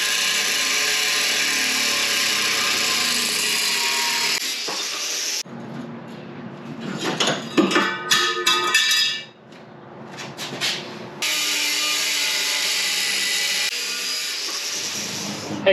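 A power tool cuts through rusted metal on a Jeep body with a loud, sustained grinding roar. Midway it breaks into a stretch of irregular rattling, clattering bursts before the steady cutting noise returns.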